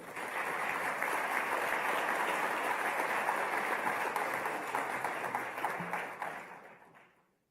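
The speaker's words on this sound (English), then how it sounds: "Another round of applause, please" Fairly faint, sustained audience applause at the 2025 OAS General Assembly follows a short Antigua and Barbuda Carnival performance, holding even for several seconds before tapering away.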